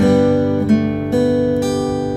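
An acoustic guitar chord is strummed and rings out, then is strummed twice more, each chord sustaining clearly with no talking.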